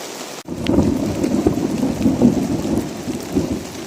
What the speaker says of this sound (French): le tonnerre grondait depuis un bout de temps